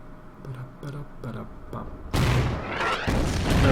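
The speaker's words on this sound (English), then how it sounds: "That's the oh, that's another artillery firing." Artillery fire from the Order of Battle strategy game on the Burma Road map: after a stretch of soft muted thumps, a loud broadband blast bursts in and rumbles on, with a second heavy report close behind.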